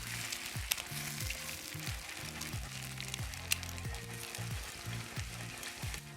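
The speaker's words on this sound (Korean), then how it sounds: "여기에 계란을 하나를 터뜨려서 풀 건데요. 기름 살짝 해서 스크램블을 만들 거예요." A single egg scrambled in a little oil in a pan for bacon fried rice gives a soft, steady sizzle, with faint scraping and a few sharp utensil clicks, close by and quiet throughout.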